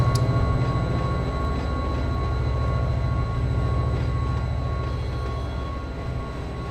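BNSF diesel locomotive throttling up in the Run 8 train simulator on a local freight run, a loud steady engine drone with a low rumble and constant whine, running continuously without talk.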